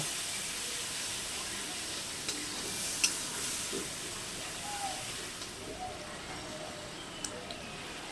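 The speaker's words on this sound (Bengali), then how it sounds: "আদা রসুন পেস্ট দিয়ে ভালো করে মশলাটাকে কষে নেব" Ginger-garlic paste and spice masala fry and are stirred in a pan for a soybean curry, a steady soft sizzle with scattered light scrapes and clinks of the spoon throughout.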